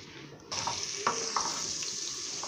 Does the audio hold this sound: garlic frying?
yes